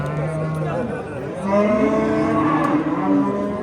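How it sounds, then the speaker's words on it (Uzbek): An Angus cow at a livestock market gives a long, loud, low moo that rises partway through, close by, with market noise and people talking around it. "Angus sigir tushibdi."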